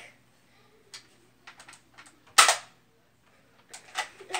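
A revolver is handled and its cylinder spun: sparse crisp metallic clicks, then a louder sharp snap, then a quick cluster of ratcheting clicks, all close with near silence between.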